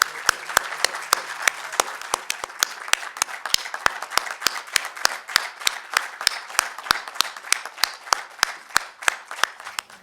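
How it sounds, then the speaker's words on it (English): Audience applause at a social innovation conference awards ceremony as a winner comes up to collect a prize cheque: a modest crowd claps in sharp, distinct, fairly steady beats for about ten seconds, moderately close, with no talking. "Big round of applause."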